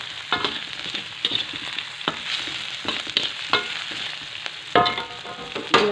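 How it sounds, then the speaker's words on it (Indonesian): Spice paste with candlenut and lime leaves sautés in a pan, giving a moderate sizzle broken by frequent sharp scraping and clinking stirs of a spatula. "Kita tumis bumbunya."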